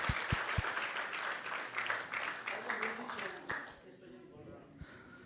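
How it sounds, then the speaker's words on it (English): An audience at a Krishna Katha gathering applauds with a dense, sustained wash of clapping that gradually dies away, with a few louder claps near the start and end and voices audible alongside. "So let's give them a big round of applause."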